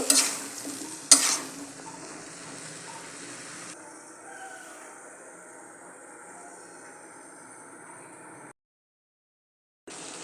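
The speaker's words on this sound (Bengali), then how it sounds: "সবজিগুলো দিয়ে দিলাম সবজিগুলো একটু নাড়াচাড়া দিয়ে নিতেছি" Winter vegetables frying in a pan for hilsa fish curry, stirred with two sharp scrapes at the start, then a steady soft sizzle that cuts out near the end before briefly returning.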